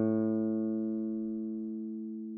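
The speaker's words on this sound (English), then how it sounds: "And now we have our bass line of sorts here." A hard-pick bass line programmed in computer music software sounds as a single sustained low note, steady and alone, slowly fading over a couple of seconds.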